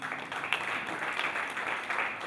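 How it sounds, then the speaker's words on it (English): Audience at a university challenge launch event clapping steadily, a moderate, continuous patter of hands lasting the whole moment. "Big hand of applause for that."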